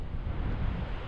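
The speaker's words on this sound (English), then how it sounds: "we finally found the ocean" Ocean surf and gusting wind off the Atlantic near Long Island, heard from aboard a sailboat heading north: steady broadband wash with low rumbling buffets of wind on the microphone, continuous and fairly close, no voices.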